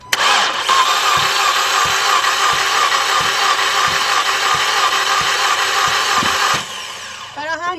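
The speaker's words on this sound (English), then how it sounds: "What I'm gonna do is go ahead and crank the engine." A 2014 Volkswagen Beetle 2.0 cranking without starting, its starter whirring steadily for about six seconds with regular compression pulses, close and loud, before cutting off as a voice briefly speaks.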